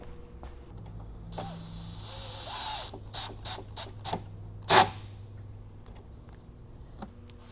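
Tightening the fuel filter into its support bracket on a 2004 VW Jetta TDI with BEW diesel engine, with soft mechanical creaks and scrapes, a few clicks, and one sharper metallic snap partway through.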